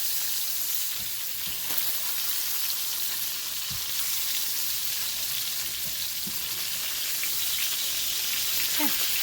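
Food fries in a pan with a steady, even hiss and sizzle, close and continuous, with a few faint pops and no talking.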